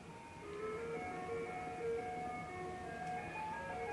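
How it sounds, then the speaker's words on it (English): A steady electronic jingle plays from an ice cream truck, a sustained tinny melody heard at moderate distance over low street rumble, with no talking. "the ice cream truck."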